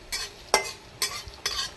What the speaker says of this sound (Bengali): শুকনো কড়াই এরকম ভেজে নিতে হবে